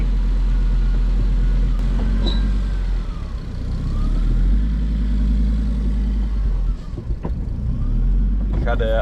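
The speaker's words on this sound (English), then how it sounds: "Ik ga de idle iets hoger zetten." A Mazda Miata with a swapped-in five-cylinder engine idles steadily and loudly, a deep constant drone running throughout, with people talking over it.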